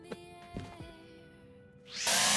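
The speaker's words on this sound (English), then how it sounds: "Oh, you can drill into the shed now." A power drill in the Derail Valley game bites into a wooden shed: a few short scraping knocks, a quiet pause, then a loud, bright, continuous whirring grind that starts abruptly and runs to the end.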